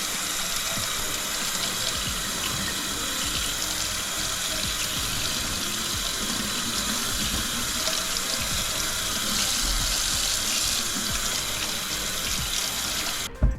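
Tap water runs steadily into a kitchen sink while citrus fruit is rinsed, a continuous close hiss and splatter with no talking.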